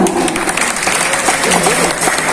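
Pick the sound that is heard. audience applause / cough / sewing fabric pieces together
audience applause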